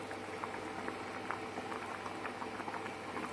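Masoor dal cooked with jackfruit bubbling at a steady boil in a pot, a dense continuous patter of popping bubbles heard up close with no voices.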